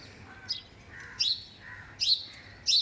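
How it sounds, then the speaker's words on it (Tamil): Sparrows perched at a house gate in the morning chirp in four short, bright bursts, evenly spaced and fairly close, over quiet background hum. "குயில் இல்லை சிட்டுக்குருவி எப்போவுமே எங்கள் வீட்டு கேட்டில் வந்து உக்காந்துக்கோங்க"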